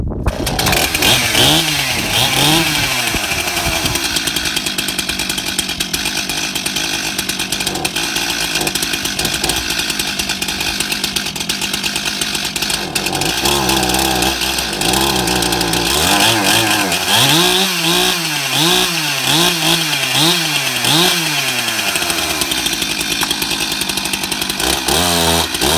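A chainsaw found at a dump runs loud and steady the whole time, with its engine pitch rising and falling as it revs up and settles back.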